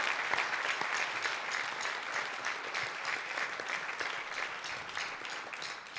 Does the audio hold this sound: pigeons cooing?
no